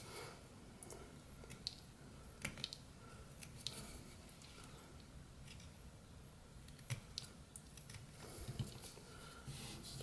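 A pocket knife whittling a small wood spirit carving, faint close-up scraping and soft slicing cuts in irregular short strokes against a quiet background.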